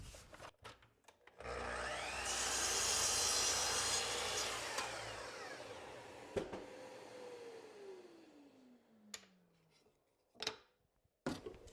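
A power saw spins up and slices through a plywood strip at a 22.5-degree angle in a woodworking shop, a loud whirring cut lasting a few seconds, then the motor winds down with a falling whine amid scattered clicks and knocks.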